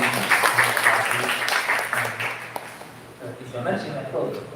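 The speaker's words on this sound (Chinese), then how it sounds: "咱拍手来欢迎老师。" A church congregation at a Taiwanese-language Sunday service claps to welcome a visiting teacher, steady applause under someone speaking over a microphone before it tapers off.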